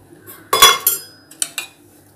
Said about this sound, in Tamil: நல்லா கொஞ்சம் நேரம் கிண்டிக்கிட்டே இருங்க